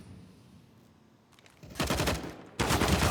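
Auto shotgun fire in Counter-Strike on the Nuke map, two dense bursts of rapid booming shots, loud and close, following a quieter stretch of game ambience, with no voices.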